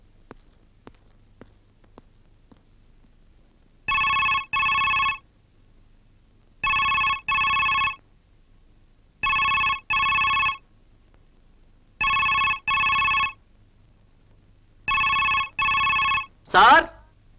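A telephone ringing at home in a Telugu film scene, five evenly spaced double-burst rings in a quiet room, followed by a short voice.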